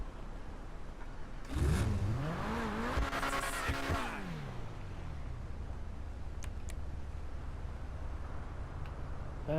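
A DLC car in a video game revs hard and loud for a couple of seconds, the engine note rising and falling, and then a low idle rumble carries on under faint ambient game noise.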